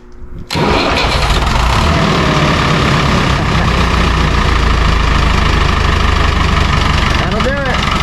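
A David Brown 990 tractor engine cranks briefly and catches, then runs at a loud, steady rumble close by for several seconds, with a short whistling sweep near the end.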